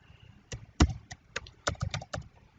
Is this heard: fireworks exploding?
no